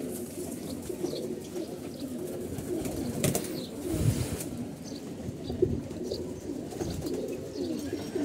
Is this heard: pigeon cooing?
yes